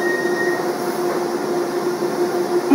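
A Docklands Light Railway train gives a steady, droning hum with a faint sustained tone on top, moderately loud and continuous throughout, no voices.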